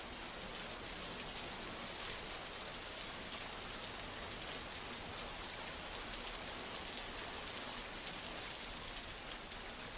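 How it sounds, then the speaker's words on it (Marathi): Steady, dense downpour of heavy rain in Mumbai, a constant broadband hiss without pause, close and loud throughout. "मुंबईमध्ये मुसळधार पाऊस सध्या सुरू आहे"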